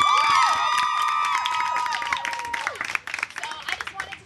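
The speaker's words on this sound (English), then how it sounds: "Give yourselves a round of applause." A student crowd at a budget cut protest claps and cheers, with high whoops and shouts over the applause before the noise thins out.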